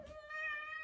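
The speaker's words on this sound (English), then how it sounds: "So this is my cat." A house cat meows once in a long, drawn-out call, close and fairly loud, with a clear tonal wail that holds steady before fading.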